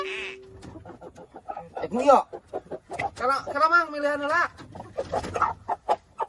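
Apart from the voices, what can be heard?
chickens clucking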